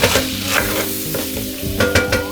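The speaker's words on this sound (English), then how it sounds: "Give it a little stir" Garlic powder and onion powder are stirred in a sizzling pan, with loud, close frying hiss and a few sharp scrapes of the utensil against the pan over a steady sizzle.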